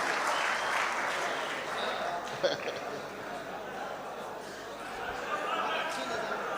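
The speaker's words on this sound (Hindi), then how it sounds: "आप जोरदार तालियों से इस्तकबाल करें सुंदर मालेगामी का" An audience at a comedic mushaira in Chennai applauds steadily as the poet Sundar Malegami is welcomed, a dense, sustained wash of clapping with a brief sharper clap near the middle and faint crowd murmur beneath.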